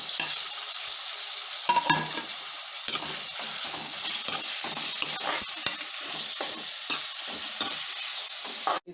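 Chopped tomatoes sizzling and frying in a pan with ginger garlic masala for a chickpea curry, stirred steadily with scraping spoon strokes throughout, close and fairly loud, no voices.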